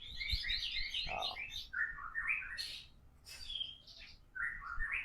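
An oriental magpie-robin sings a varied series of bright, quick chirps and whistled phrases, close and clear, with short pauses between bursts.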